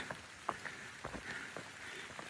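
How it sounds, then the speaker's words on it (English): Rain falls steadily outdoors in a soaking shower, a soft continuous patter with scattered individual drops ticking on nearby surfaces and no voices. "It's raining."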